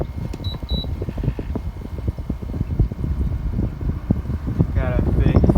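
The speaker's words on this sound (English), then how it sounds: "Here's the fan motor, or fan blade." Friedrich window air conditioner running with its fan motor and blade turning, a steady broadband whoosh and hum with faint rattles, loud and close to the microphone, with a brief voice near the end.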